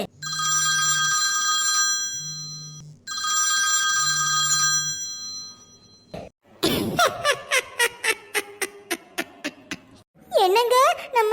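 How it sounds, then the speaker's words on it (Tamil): Cartoon telephone bell ringing in repeated loud bursts with short pauses, followed by exaggerated cartoon vocal noises. "ஆஸ்தராகஸ் சீக்கிரமா போன எடு"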